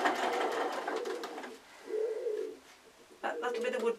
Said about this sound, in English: That'll be the wood pigeon on the chimney.